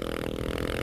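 A Honda XRE motorcycle engine revs high in a GTA-style driving game, a steady buzzing drone held for under a second, loud and close with no voices.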